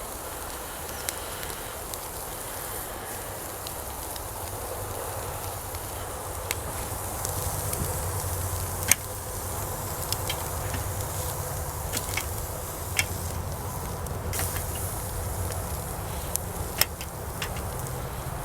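Quail sear in a cast iron pot over an outdoor campfire for grilled quail gumbo, a continuous soft hiss and sizzle broken by sharp crackles and pops from the fire.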